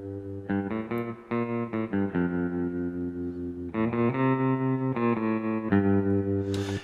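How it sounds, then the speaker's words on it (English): A clean, dry USA Deluxe Telecaster electric guitar plugged directly into an instrument input plays sustained notes and chords with sharp plucked attacks, recorded close with no amp coloration and no talking. "this is my USA Deluxe Telecaster, and it's plugged directly into the instrument input"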